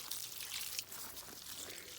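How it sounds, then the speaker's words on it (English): A garden hose sprays steadily while plants are watered, giving a soft, continuous hiss and patter, fairly faint and even throughout the short stretch. "then we gotta turn on the hose"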